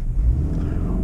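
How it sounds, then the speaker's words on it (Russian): A 2021 Subaru Outback with a CVT launches hard from a standstill, its engine giving a loud, steady low rumble that surges briefly near the start. "Мгновенно срывается автомобиль"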